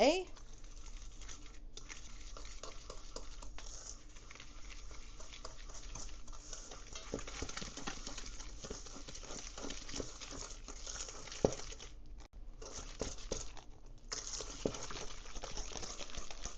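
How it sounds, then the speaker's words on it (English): A whisk beats egg yolks and sugar for crème brûlée in a bowl, giving soft, quiet, irregular ticking and patter that goes on steadily. "we're going to whisk this up for the creme brulee"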